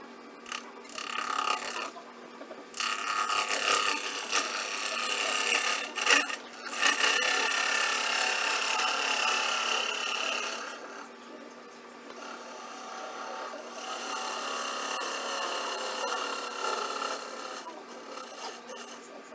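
A fingernail gouge cuts a three-corner wooden bowl spinning on a lathe, making rough scraping bursts that rise and fall, with brief pauses between passes and the motor humming underneath.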